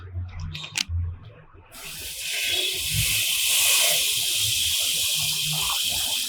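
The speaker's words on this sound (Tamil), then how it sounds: "இப்போ நான் இதில் கொஞ்சம் தண்ணி செத்துறேன்" Water poured into a hot pan of channa masala sets off a loud, steady sizzling hiss that bursts in abruptly and keeps boiling close by, after a few seconds of quiet kitchen handling and faint talk.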